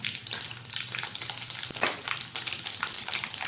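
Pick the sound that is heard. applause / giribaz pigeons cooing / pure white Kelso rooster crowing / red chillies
red chillies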